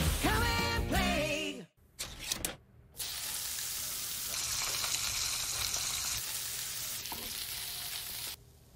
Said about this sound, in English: Don't knock it till you've fried it. Sizzle